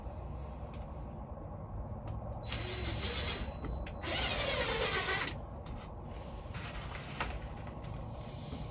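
A power drill drives small screws into thin wood panels, with bursts of whirring motor and bit grinding separated by quieter pauses, one longer and louder burst near the middle, over steady background noise.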